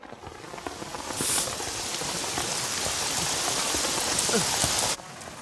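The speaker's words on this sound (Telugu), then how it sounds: "వర్షం పడుతుందమ్మా" Steady, heavy rain pattering on a surface, a dense continuous hiss that stops abruptly near the end.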